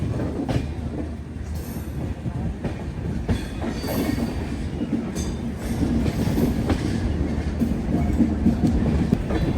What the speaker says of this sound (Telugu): శతాబ్ది ఎక్స్ప్రెస్ అది.